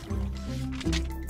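A large Pokémon, Snorlax, settles down into spring water in a video game, giving a soft liquid splash and squishing slosh over sustained tonal game music, with a second surge of water near the end.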